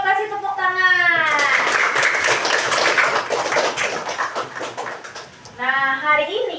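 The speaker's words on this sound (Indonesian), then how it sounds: "Kasih tepuk tangan." A classroom of children bursts into clapping for about four seconds, dense and close, with a teacher's voice speaking just before and after the applause.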